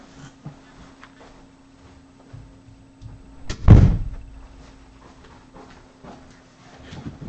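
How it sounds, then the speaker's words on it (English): A door is shut once with a sharp thud partway through, in an otherwise quiet indoor room with a faint steady hum and small scattered noises. "I gotta shut my door."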